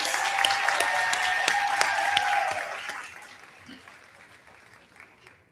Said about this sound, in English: let's give a heartfelt round of applause to these outstanding individuals